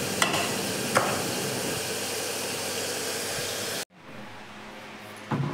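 Food being stirred and fried in a pan, with a steady loud sizzle and a few spoon knocks, then the sizzle drops away abruptly to a quieter hiss.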